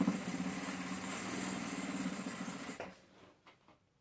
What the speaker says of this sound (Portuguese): E eu vou fazer uma costura bem na beiradinha aqui, como uma costurinha de segurança.